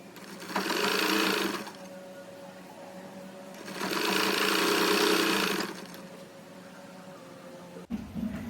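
A sewing machine stitches the side opening of a churidar top in two loud, steady whirring bursts of about a second each, separated by a quieter hum, with a sharp click near the end.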